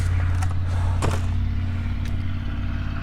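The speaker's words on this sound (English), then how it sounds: "we had a truck go by. My big door's open to the building." A truck rumbles past outside a building's open big door, a low steady engine drone with a few clattering thumps partway through, fairly loud and without talk.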